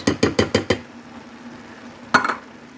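Tomato sauce being stirred into vegetables in a pot: five quick, evenly spaced clanks of a utensil against the pot, then a quiet pause and one louder scrape near the end, close by with no talk.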